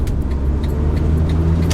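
A Nissan Figaro, a tiny Japanese car, driving along the road: steady low engine rumble and road noise heard from inside the cabin, constant and fairly loud, with faint light rattles.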